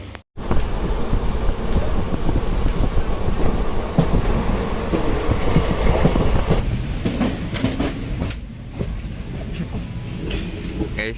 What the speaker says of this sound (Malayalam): ഗുരുവായൂർ എക്സ്പ്രസ് എന്ന് പറയുന്ന ട്രെയിനിലാണ് പോകുന്നത് നമ്മൾ.